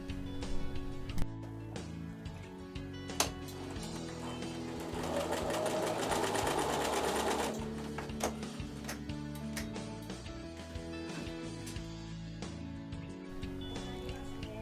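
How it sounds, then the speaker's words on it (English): A sewing machine runs steadily for several seconds, stitching the seam of a Monkey Wrench quilt block, with softer mechanical ticking and handling before and after the close, continuous whir. "Machine sew the line on the right hand side."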